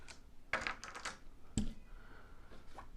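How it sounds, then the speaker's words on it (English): Dice gathered up by hand on a tabletop during a solo board game, giving a few quick rattling clicks in two short bursts, close and fairly quiet. "we're going to gather our dice."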